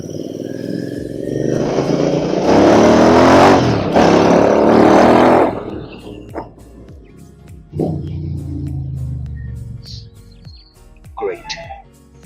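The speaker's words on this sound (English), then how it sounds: "Once you change it to straight pipe free flow exhaust, any exhaust, especially Atom, if you can find one, the sound is amazing." A GT 650 motorcycle with a straight-pipe free-flow exhaust revs loudly and close for several seconds before dropping away, with a short blip and handling noises after.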